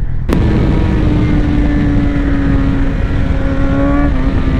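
A 2018 BMW S1000XR motorcycle engine running while riding, a loud steady drone with constant wind and road roar, holding an even pitch throughout.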